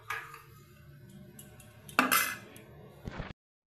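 A spoon stirs strawberry ice cream mixture in a bowl, giving soft scraping and a few sharp metallic clinks against the bowl, close and quiet.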